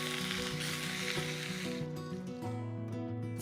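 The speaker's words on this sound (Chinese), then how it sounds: "解冻好的盐葱渍三文鱼切丁煎熟" Diced salt-and-scallion-cured salmon pan-frying in oil gives a steady, close sizzle that runs through the whole stretch, with faint tonal notes beneath and no voices.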